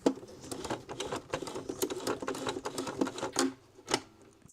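A home sewing machine stitches in uneven bursts of rapid clattering pulses, close and moderately loud, stopping and restarting briefly without voices.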